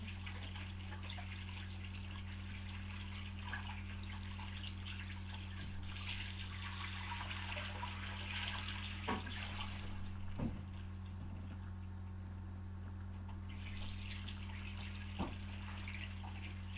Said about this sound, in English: So, I'm gonna wash the hands,